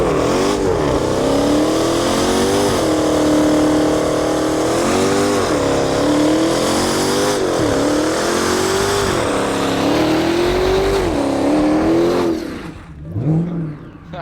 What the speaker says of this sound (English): Should we do a smoky burnout? All right, let her rip, Tater Chip.